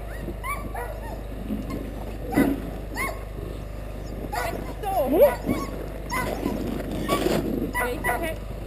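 Sled dogs at a kennel in Sweden barking, whining and whimpering in scattered bursts, some near and some farther off, over a low steady background.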